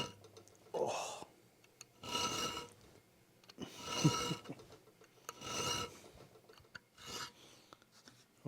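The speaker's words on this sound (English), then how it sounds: "Now I'll use a triangle file to do all the straight lines between each hourglass." Steel kukri blade, made from a brush axe, worked with a triangle file: separate bursts of rasping strokes, each about a second long, with short quiet gaps between them, heard close.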